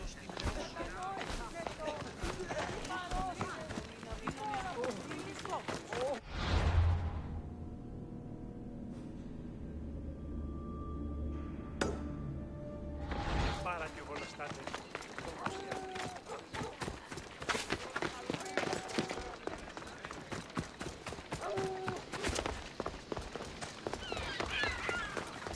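Running footsteps from the video game Assassin's Creed Odyssey, a steady clip-clop patter that is close and fairly loud. It stops for a quiet stretch midway and then resumes, with speech heard over parts of it.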